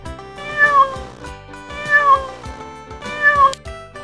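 A domestic cat meows three times in a steady repeating pattern, each call clear, close and fairly loud, with short quiet gaps between them.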